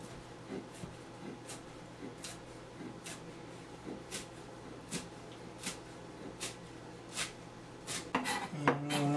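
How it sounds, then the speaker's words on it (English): Repeated sharp knife strikes chopping cilantro on a cutting board in a steady rhythm, close by, with kitchen clatter and a low hum beneath, busier near the end. "He gonna cut the cilantro for us"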